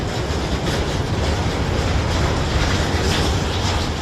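A freight train loaded with about 1000 tonnes of Kazakh wheat rolls into a station in Armenia, a steady, loud and continuous rumble of wagons with rhythmic clickety-clack from the rails and no voices.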